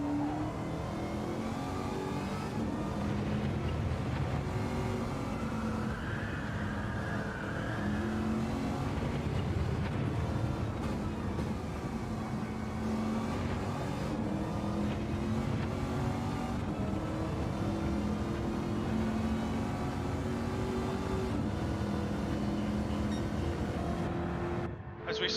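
A V8 Supercar engine heard from onboard during a lap of the Sardegna Road B circuit in a racing game, droning steadily at high revs with shifting pitch and a gear change partway through, with no talk.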